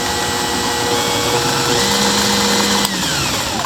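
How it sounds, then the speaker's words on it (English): A power drill whirs steadily and loudly throughout, with a brief knock near the end as the motor keeps running. "I have it hooked up to a drill here with the correct input"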